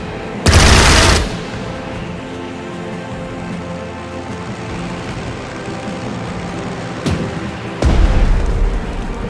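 Anti-aircraft guns firing in the WWII strategy game Strategic Mind Blitzkrieg at the Battle of Tobruk, a sharp loud burst at the start and another near the end over a steady rumbling battle din.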